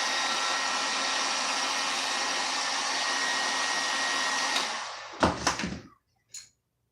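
An electric heat gun blows steadily with a loud, even airy roar for several seconds. It then switches off, and a few close clunks and handling knocks follow.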